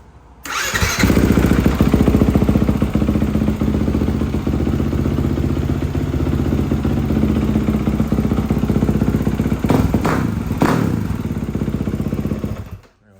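A Yamaha YZ 250F dirt bike with a freshly fitted exhaust starts up and keeps running close by, a loud, steady mechanical roar with a few sharp blips of throttle near the end before it cuts off.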